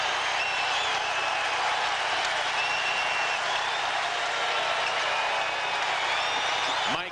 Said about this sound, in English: And this big crowd on its feet.